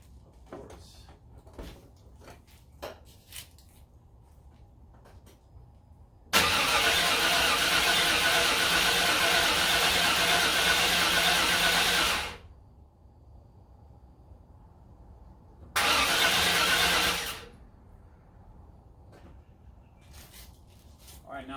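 A car engine with freshly replaced head gaskets and ported, polished heads fires up for the first time, running loud and steady for about six seconds, then cuts out before a second brief start and stop.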